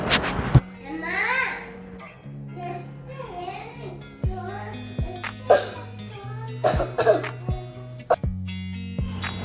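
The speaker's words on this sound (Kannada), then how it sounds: "ಮಕ್ಕಳಿಗೆ ಜೋರು ಕೆಮ್ಮು" Children cough repeatedly in short, uneven bursts over about ten seconds, joined by other brief throaty sounds and a few vocal noises over a low steady hum.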